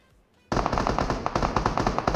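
Rapid automatic gunfire from a firefight in PUBG Mobile erupts after a quiet moment, with dense, repeated loud shots continuing without pause.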